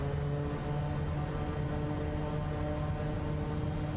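SWS Kodiak single-engine turboprop in Microsoft Flight Simulator 2024 at takeoff power: a steady, loud, droning engine roar with a constant hum and no voices.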